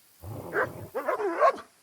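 A dog in the video game Kingdom Come: Deliverance 2 gives a few close, expressive barks and whiny yips, rising and falling in pitch like vocal chatter.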